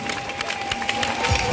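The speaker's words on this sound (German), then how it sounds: "Applaus!" Scattered applause and cheering from a crowd at a mountain bike World Cup race in Aalen, a dense, fairly close patter of clapping lasting a short moment with no talk over it.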